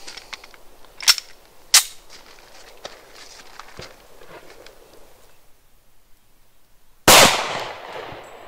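A Springfield XDm 4.5 pistol fires one sharp, loud .45 ACP shot near the end, after quieter clicks and handling of the gun.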